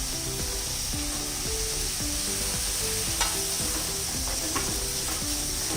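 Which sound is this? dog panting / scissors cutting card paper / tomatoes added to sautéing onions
tomatoes added to sautéing onions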